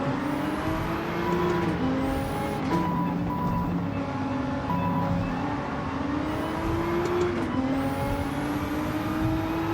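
A racing car in Gran Turismo, lapping Tokyo 600, hums with a steady engine drone whose pitch dips and climbs through braking and a front-end slide, under faint whistling tyre squeal.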